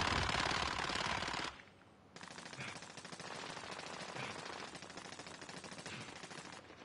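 Automatic machine gun fire in the shooter game Warzone, loud and continuous bursts with a short pause near the middle, mixed with game sounds and no talking.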